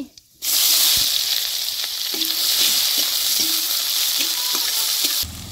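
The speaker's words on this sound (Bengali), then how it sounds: "তেল গরম হয়েছে এখন দিব গোটা জিরা তেজপাতা এলাচ আর লং পেঁয়াজ কুচি" Whole cumin, bay leaf, cardamom, cloves and chopped onion frying in hot mustard oil in a village kitchen, a loud steady sizzle that starts abruptly and holds with a few light clicks of stirring, then cuts off.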